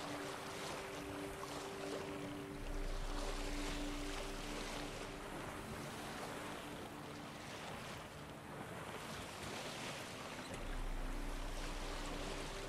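Sailing boat gliding over open water in The Witcher 3, with a steady wash of waves and wind rushing past, plus a low hum running throughout; no one talks.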